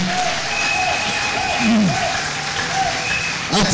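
A church congregation applauds during a sermon by Pastor Eric Nsenga, a steady patter of clapping that runs under the pastor's voice.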